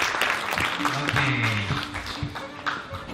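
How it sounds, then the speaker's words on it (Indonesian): An audience applauds for Kangkiran at a talk event, a steady wash of clapping filling the whole moment with voices and tonal sounds mixed in beneath it. "tepuk tangan untuk Kangkiran."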